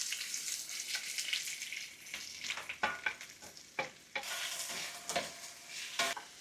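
Onion sautéing in a pan, a bright crackling sizzle punctuated by repeated stirring scrapes and knocks of the spatula, close and unaccompanied by voices.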